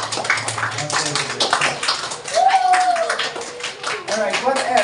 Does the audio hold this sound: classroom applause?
yes